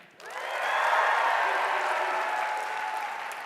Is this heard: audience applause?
yes